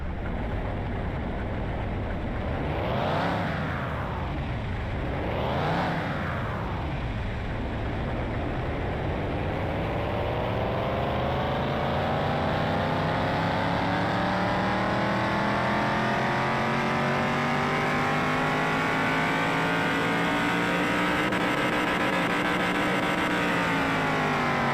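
A McLaren F1 engine in the Car Mechanic Simulator game runs on a dyno, blipping twice and then climbing in one long, loud, continuous rev whose pitch rises steadily.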